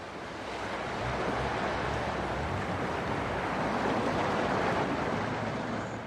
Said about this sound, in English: Donald from Soft Roading the West fording that stretch of the river in his little Subaru